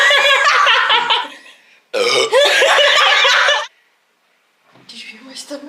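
Women burp loudly after chugging drinks, with two long, loud belches in a row, then a shorter, fainter burp and some breathy chuckling after a short pause.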